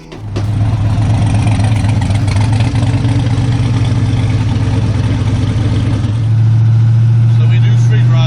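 LS turbo car engine running loud and close, a steady deep idle that swells into a stronger drone near the end, with a voice partly heard over it.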